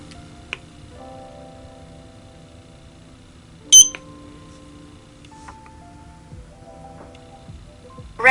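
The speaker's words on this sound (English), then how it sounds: "Press the sync button until you hear the beep." A Eufy 2C home security camera gives a short, bright electronic beep as its sync button is pressed, standing out once against a quiet room with a few faint clicks and ticks before and after.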